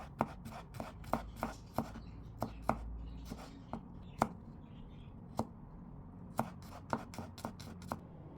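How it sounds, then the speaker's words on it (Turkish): Light knife chops on garlic tap a cutting board in a loose, uneven rhythm, close and fairly quiet, with a soft rub in between. "Sarımsağı da küçük küçük doğrayalım"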